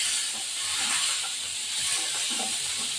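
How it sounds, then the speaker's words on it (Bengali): Potatoes and tomatoes fry in a pan with a steady, close hiss that rises and falls slightly, along with faint scattered crackles and no talking. "এবার এই আলু এই টমেটো দিয়ে দেবো দিয়ে দিলে এটা একটু ভাজা ভাজা হবে"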